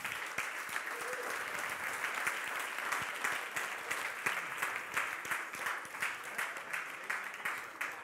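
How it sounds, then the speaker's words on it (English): Steady applause from an event crowd at a startup demo day finale, many hands clapping continuously at moderate volume with a slight rhythmic pulse toward the end. "the last big round of applause"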